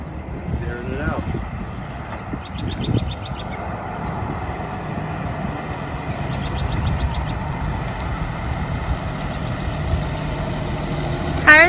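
A 1952 Ford F1 pickup truck drives along at speed, its engine droning steadily with road rumble throughout, while people talk over it.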